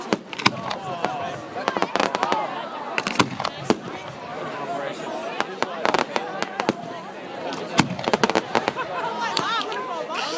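Fireworks bang and crackle at a Bonfire Night display, with sharp, repeated outdoor bursts scattered irregularly through the clip while people chatter and call out nearby.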